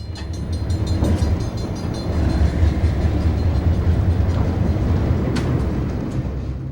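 GBW freight train led by unit 318, formerly C&NW 901, rolls past on the Green Bay Route with a loud, steady rumble of wheels and wagons, low engine drone and brief high squeals.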